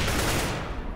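A loud, dense burst of gunfire from Counter-Strike: Global Offensive fills the moment with close shots that fade slightly toward the end.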